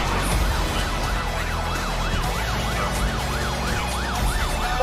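A police car siren wails steadily in a rising and falling sweep, fairly close and loud over road and engine rumble, with no voices.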